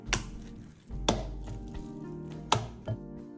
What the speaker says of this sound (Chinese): 拌匀后，可用手或用织瓜板将肉末抛一抛，这样做完成后的成品比较弹牙。